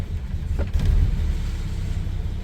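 The engine of a 1958 Plymouth Plaza idles steadily with a low, rumbling hum, swelling briefly as the handbrake is released and settling into a continuous close drone.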